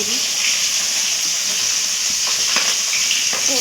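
Tangra fish frying in hot oil in a pan, giving a loud, continuous close sizzle and crackle with a few soft stirring scrapes.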